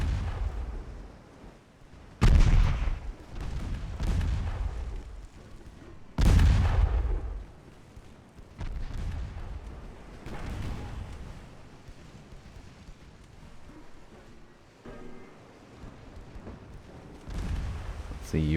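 Heavy 15-inch naval guns fire in an 1896 French naval battle in Ultimate Admiral Dreadnoughts, with two big booms early on and smaller distant reports after them, all set against a steady rumbling battle ambience with no speech.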